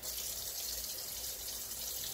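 Water fizzes and hisses steadily in a pan where a sharpening whetstone is soaking, a constant close bubbling, no voices.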